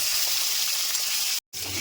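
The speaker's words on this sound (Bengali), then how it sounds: "পটলগুলো দিয়ে দিচ্ছি তেলে।" Pieces of salted pointed gourd fry in hot white oil with a dense, steady close-up sizzle, broken by a brief silent gap near the end before the crackle resumes.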